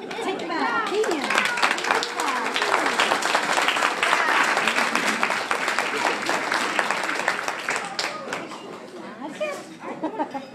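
Applause and cheering from a children's audience after a performance of a turkey rhyme, with steady dense clapping and crowd chatter that stays loud throughout, then thins slightly near the end.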